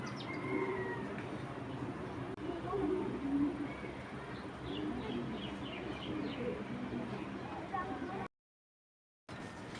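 Pigeons in a loft, a breeding pair with two young birds among them, coo softly and repeatedly against a busy background of other birds, with a brief dropout near the end.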